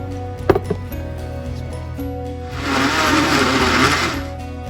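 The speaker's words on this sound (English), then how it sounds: "So you're going to blend that up." A blender runs for about two seconds on ingredients for an apricot glaze, giving a loud, steady whir after a few sharp knocks at the start, with no speech.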